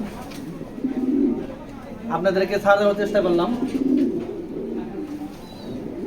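Racer pigeons cooing at a pigeon sale, low throaty coos rising and falling over several seconds beneath someone speaking close by.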